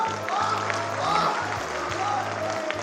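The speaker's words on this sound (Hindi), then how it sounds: "ये तालियां गौरव चौहान के लिए नहीं" Outdoor audience at a Hindi patriotic poetry recital claps steadily in a broad wash, heard beneath a poet speaking into an amplified microphone with a low electrical hum.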